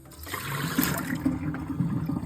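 Water poured off soaked navy beans into a sink: a close, steady gushing splash with a gurgling trickle running throughout, moderately loud and alone.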